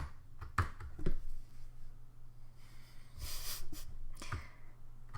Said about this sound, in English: You hit your Alt key when your keyboard is working.